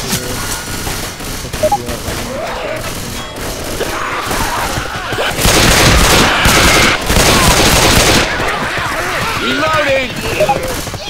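Rapid gunfire bursts from the Left 4 Dead 2 zombie shooter game, loud, dense volleys peaking mid-clip amid crashing impacts, with players calling out over the action.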